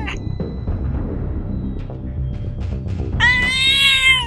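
A black cat lets out a loud, drawn-out meow near the end, rising clearly above a busy background of rustling and low noise.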